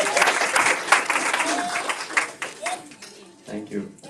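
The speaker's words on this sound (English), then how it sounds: "Big round of applause," An audience at a Srimad Bhagavatham session applauds with a burst of hand clapping, a dense steady patter that thins toward the end, with a voice speaking briefly over it.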